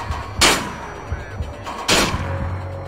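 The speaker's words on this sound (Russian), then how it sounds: "Откуда кто стреляет?" Two heavy gunshots in the video game Manhunt, about a second and a half apart, loud and close, with a low rumbling game background and no talk.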